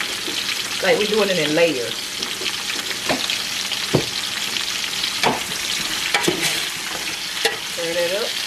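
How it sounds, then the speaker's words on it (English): Squash frying in grease in a pan with seasoning, a continuous sizzle broken by scraping stirs and clinks of the utensil, while someone talks intermittently over the cooking. "Stir them up a little bit in that grease."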